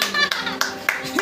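Hands clap at a home kids' game in a vlog setting: four sharp, evenly spaced claps ring out close by over a child's sing-song voice.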